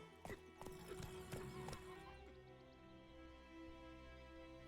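Horse hooves clip-clop in a quick galloping rhythm in Witcher 3: Wild Hunt, then give way to a whinny and a steady game music bed, with no talk.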